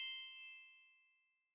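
A single bell in a beginner English practice lesson, struck once, rings clear and bright, then fades out slowly over about a second and a half, alone in silence.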